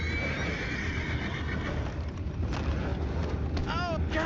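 A horse in Red Dead Redemption 2 gives a rising, wavering whinny near the end, heard over a steady rumble of outdoor wind and ambient game noise.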